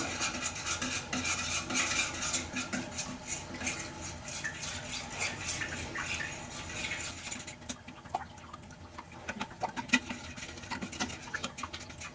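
Yogurt and milk are stirred by hand in a bowl with a utensil, giving a steady run of scraping, clinking and wet swishing strokes, close and moderately loud, easing off briefly before resuming.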